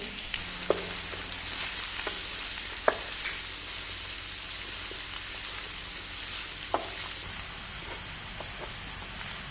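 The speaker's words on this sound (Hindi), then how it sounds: "प्याज का रंग सुनहरा होने तक हम इनको पकाएंगे।" Onions sizzle steadily in hot ghee for butter chicken, a dense bright crackling hiss with occasional clicks of a stirring spoon, close and continuous.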